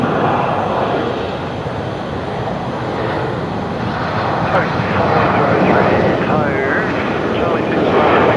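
Boeing 737 on landing roll at Brisbane Airport at night, applying reverse thrust: a loud, steady broadband engine roar that swells slightly toward the end, with no voices over it.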